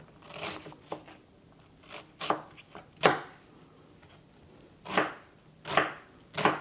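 A knife chops an onion on a cutting board in separate sharp thuds, some in quick pairs with pauses between, close and clear with no talk.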